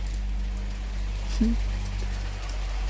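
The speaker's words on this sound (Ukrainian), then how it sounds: "По криші б'є, б'є, усилюється трошки." Rain drumming on a roof, a constant broadband patter that holds steady at moderate loudness, with one brief faint tonal chirp partway through and no speech.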